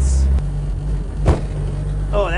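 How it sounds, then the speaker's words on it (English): A three-wheeled log cabin car with no suspension drones along a road, then hits a bump and gives one sharp, brief clatter partway through; a voice briefly speaks at the end. "We went over a little bump on the road, and having no suspension makes every bump either wallowy or terrifyingly clattery"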